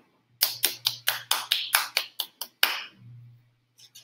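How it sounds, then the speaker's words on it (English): Hand clapping in a quiet room, about ten sharp, evenly spaced claps that end with a final louder one, then a short low hum and a few faint taps. "Come on, clap."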